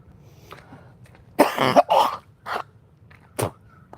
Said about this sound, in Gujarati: ઉધરસ થોડીક થઈ ગઈ